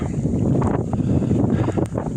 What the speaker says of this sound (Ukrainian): сніг, вітер, заметіль.